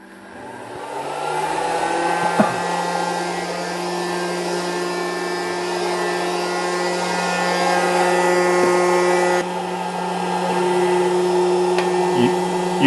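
An air popcorn maker whirs steadily after being switched on, a constant loud fan-and-motor drone with a high whine that holds level through the whole stretch, a brief click near the start.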